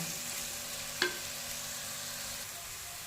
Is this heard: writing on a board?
no